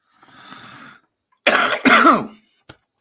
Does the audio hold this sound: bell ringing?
no